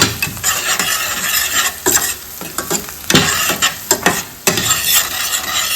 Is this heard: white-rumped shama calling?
no